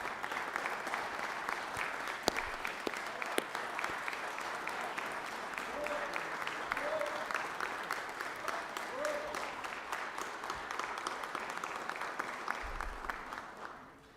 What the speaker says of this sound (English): please give them a round of applause for the time they spent from their families